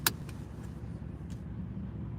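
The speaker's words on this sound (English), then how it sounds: "No, he's backing up. I hope he doesn't hit my car." A car backs up at moderate distance, a steady low engine rumble with a few faint clicks and rattles, no talking.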